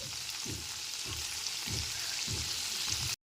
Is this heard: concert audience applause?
no